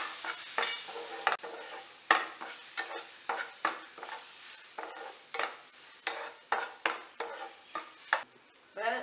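Chopped fruit is stirred into roasted Satyanarayana prasadam in a pan, giving a steady series of close scraping, rustling stir strokes with a faint sizzle beneath, repeating every second or so without talk.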